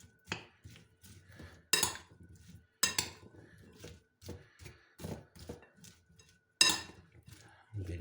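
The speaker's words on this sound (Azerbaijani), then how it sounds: "Üzərinə duz əlavə edirik və yaxşıca qarışdırırıq." Shepherd salad being tossed with salt in a bowl, giving a series of separate clinks and scraping knocks of utensils against the dish, close and fairly quiet, with short pauses between strokes.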